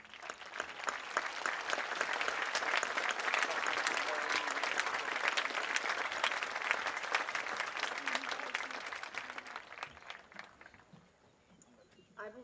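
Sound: applause at a graduation ceremony

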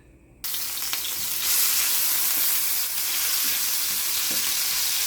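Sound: ginger sizzling in hot oil in a pan

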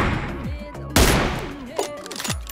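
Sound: gunfire in the video game PUBG Mobile

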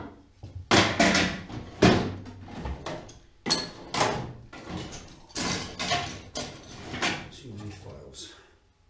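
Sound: small workshop drawer opening and closing

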